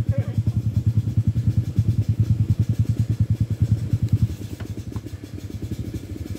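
A Honda XRM motorcycle's single-cylinder engine idles nearby with a loud, even, rhythmic putter that slows slightly toward the end.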